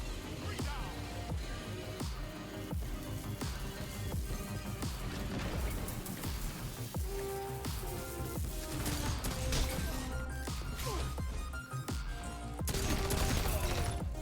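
Outbreak Perfected pulse rifle firing in Destiny 2, rapid repeated shots running throughout alongside a dense mix of game effects, music and crashes, with talk over it.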